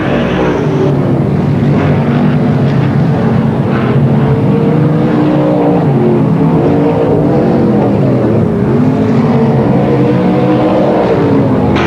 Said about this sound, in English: Through goes Rush with half a lap to travel now onto the lane straight away in the Australian number 1 car.